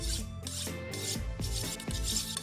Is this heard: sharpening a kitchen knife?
yes